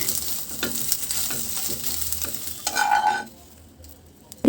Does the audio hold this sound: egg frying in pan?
yes